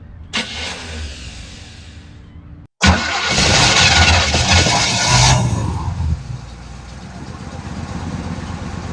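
An old car engine cranks briefly, goes quiet for a moment, then catches and starts with a loud burst before settling into a steady, rough idle close by.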